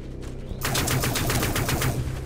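Rapid automatic fire from a militia rifle in the sci-fi shooter Dust 514, a steady loud burst starting abruptly after a quiet moment and continuing evenly to the end, with no talk.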